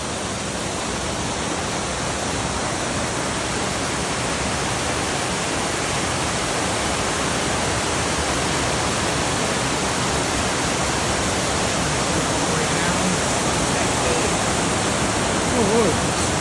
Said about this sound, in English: This is the waterfall that's right behind the cemetery.